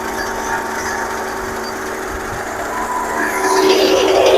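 A 2x1 vacuum feed crusher driven by a 3 kW motor runs with a steady, loud mechanical whine and hum, swelling slightly louder toward the end, no voices.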